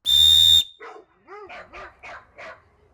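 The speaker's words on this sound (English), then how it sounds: "This is the world's loudest 3D printed whistle." A world's loudest 3D-printed whistle blown outdoors gives one piercing, extremely loud shrill blast lasting about half a second, then stops abruptly. Several short excited vocal outbursts follow.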